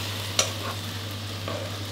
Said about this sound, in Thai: แล้วก็ผัดคลุกเคล้าให้เข้ากันดีครั้งนึงครับ